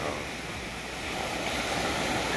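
Steady roar of sea surf at Malalag mixed with gusting wind buffeting the microphone, continuous and fairly loud with no breaks.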